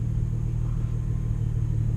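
A Nissan GT-R backing out, heard from inside as a steady, loud low engine rumble that holds even throughout, with no voices.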